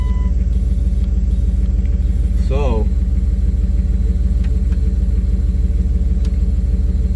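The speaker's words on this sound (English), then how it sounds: "turn the car on" A 1998 Dodge Durango 5.2 L V8 idles with a steady low rumble throughout, and a person says a single short word near the start.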